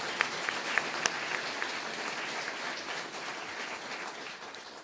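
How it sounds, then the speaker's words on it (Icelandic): Audience applause at an Icelandic university graduation ceremony for the Agricultural University of Iceland, a steady dense wash of many hands clapping, moderately distant, with a few sharper claps near the start and fading slightly toward the end. "Við skulum klappa fyrir því."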